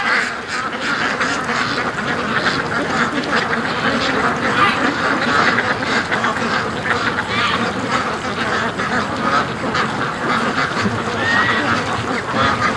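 A large flock of farm ducks quacks continuously and densely throughout, close and loud, in a busy morning pen with many overlapping calls.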